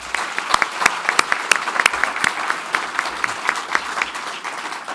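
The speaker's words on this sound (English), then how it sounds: "And let's have another round of applause for all of our inaugural distinguished professors." Audience applause at a university awards ceremony honouring distinguished professors, steady sustained clapping from a sizable crowd with sharp individual claps standing out, no talking.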